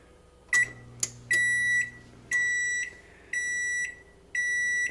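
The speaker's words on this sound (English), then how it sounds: "The beeping means it's at temperature" An oven sounds a series of electronic beeps as it reaches its set temperature while cooking orange pop bacon chicken, about six bright tones, the first few quick and close together, then longer evenly spaced beeps, moderately loud with no talking.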